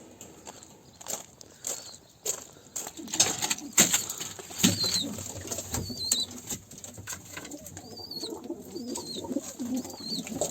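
Grey-spotted crested pigeons flap their wings in a loft. Brief bursts of wingbeats mix with soft coos and scattered chirps, and small scuffs and footsteps come through between them.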